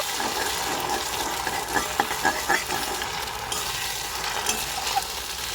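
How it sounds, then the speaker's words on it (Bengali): Beaten eggs breaking up as they fry with spices in a pan, giving a steady close sizzle dotted with soft scraping and tapping strokes of a spatula. "এবার আমি ডিমটা একটু ভেঙে নেব"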